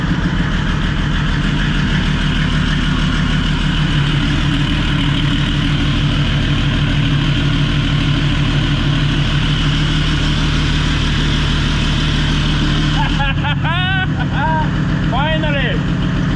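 A Nissan 200SX S14 race car fitted with an OM606 turbodiesel engine idles loudly and roughly for about thirteen seconds, then shuts off, leaving only brief voices and faint background sounds.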